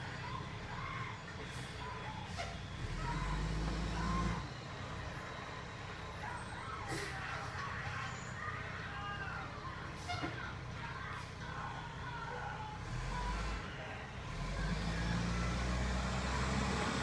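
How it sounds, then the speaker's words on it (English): A garbage truck works a street at night during the graveyard shift, with a steady rumbling engine, hiss and clanks from the machinery, and occasional faint beeps, heard from a moderate distance. "Garbage truck going"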